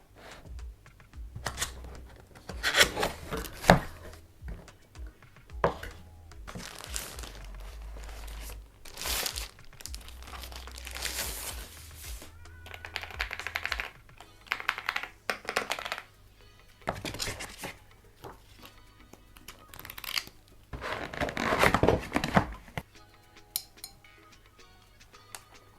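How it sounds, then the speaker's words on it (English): Packaging for an Epomaker EK98 keyboard crinkles and rustles in irregular bursts during unboxing, with plastic wrap crumpling, cardboard shuffling and occasional clicks and taps, fairly close and without talk. "let's just go with the unboxing"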